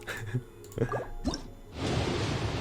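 Water poured or dripping during a live Genshin Impact stream: a few soft drips and squishy plops, then a short, steady splashing pour near the end, with no talking.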